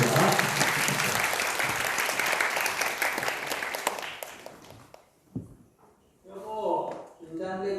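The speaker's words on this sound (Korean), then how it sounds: "우리 박수로 또 환영하도록 하겠습니다." An audience at a Korean-language speech contest final claps to welcome a finalist, with steady applause for about four seconds that fades out, followed by people speaking.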